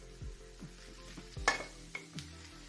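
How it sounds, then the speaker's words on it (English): Kielbasa goes into a hot pan for omelets, giving a soft, quiet sizzle broken by several light clinks and scrapes of a utensil stirring, with no talking. "In the gooch pan, I'm going to add the kielbasa."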